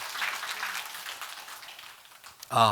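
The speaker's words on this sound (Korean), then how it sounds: "하나님께 영광의 박수 한번 돌리겠습니다." A burst of applause breaks out near the end of a church Sunday worship service, following a stretch of noisy broadband murmur; the clapping is loud and close.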